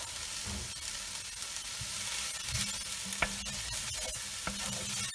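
Beef rolls, alouettes sans tête, fry in caramelised sugars and leftover olive oil in a pan, giving a steady close sizzle with occasional stirring scrapes and small pops throughout.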